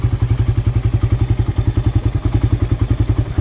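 A motorcycle engine idling close by, a loud, low, even putter of rapid regular pulses with a faint rattle on top, steady throughout.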